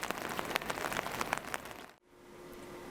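Heavy rain falls steadily with dense pattering drops on surfaces for about two seconds, then cuts abruptly to a quiet low hum.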